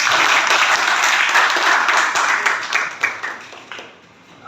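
A class of students claps together, a close, full burst of hand claps that rolls on for several seconds before tapering off into near quiet.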